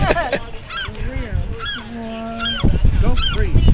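A duck hooked on a fishing line at a pier calls repeatedly in loud, close, honking quacks, with the calls rising and falling in quick bursts and one long drawn-out note, amid outdoor background noise.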